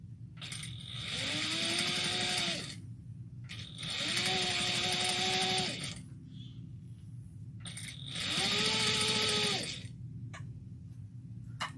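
A sewing machine stitches a phone sling bag with a long stitch length, running in three sustained bursts of a couple of seconds each. Between the bursts there are brief pauses. The whirring motor is close and steady, with no talk.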